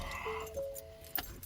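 A bunch of keys being pulled out inside a vehicle at an old farmhouse gives a brief metallic jingle and clink, close and fairly quiet, with a soft tone lingering under it.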